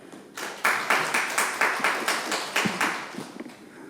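An audience at a regional political forum in South Jeolla claps in a steady run of about a dozen sharp, even hand claps, moderately near and with no talking over them.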